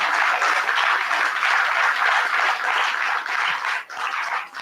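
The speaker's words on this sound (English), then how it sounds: "give a big applause one more time to all the volunteers" A big round of applause for volunteers at a Navarathri Day 9 gathering, a dense continuous roar of clapping from a large crowd, loud and sustained throughout with slight dips near the end.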